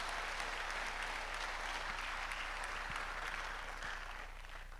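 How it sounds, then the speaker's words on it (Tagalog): A church congregation claps loudly during a sermon by Bishop Ted Malangen, a steady roomful of hands beating together, holding its strength and easing off slightly at the very end. "Pumalakpak na malakas yung mga pinagpala ng Panginoon."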